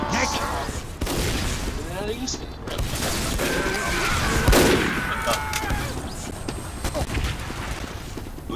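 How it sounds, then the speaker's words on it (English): Gunfire from the video game Team Fortress 2, rapid shots and bursts crackling steadily through the scene with an explosion-like thump midway, the game audio loud and dense. "Who's shooting at me?"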